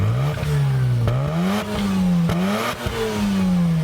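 A Mazda RX-7 FD rotary engine revs up and down repeatedly, a smooth buzzing rotary whine rising and falling in pitch, loud and close throughout.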